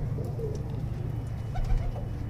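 Pigeons coo softly in a loft holding several hens and cocks, their low murmuring calls blending into a constant close-by background rumble.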